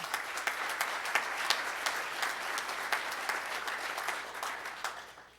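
Audience at a Rotary Club of Tulsa meeting applauding the Crescendo Music Awards anniversary, a steady, moderately quiet patter of many hands from across the room that fades near the end.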